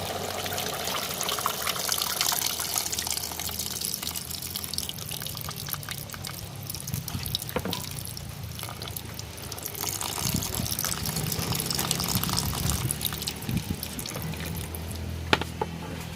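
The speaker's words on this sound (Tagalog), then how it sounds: "Saka ko lamang siya bubuhusan ng gata" Coconut milk pours over cooked banana blossom in a pot, a continuous liquid gush with small splashes and drips running steadily for the whole stretch.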